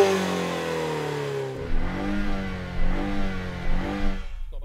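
BMW M135i engine at a drag race, one steady tone that drops, then swells in three or four rising revving surges, fairly close and loud.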